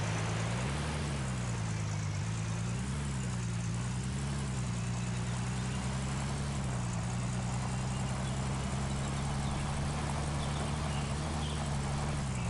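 A truck engine in Gold Mining Simulator runs at a steady idle for the whole stretch, a low continuous drone with a slight wavering throb and no talk over it.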